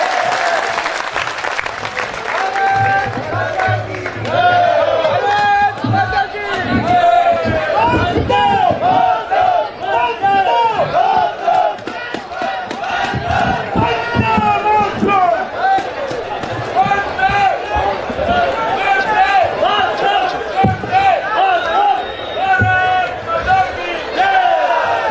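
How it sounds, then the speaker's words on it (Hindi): Audience at a live Hindi kavi sammelan poetry recital at the Jalore Mahotsav festival claps and cheers loudly throughout, with a steady, dense roar of applause and shouting voices lasting about twenty-five seconds. "ताली बजा कर दे दीजिए अनुमति।"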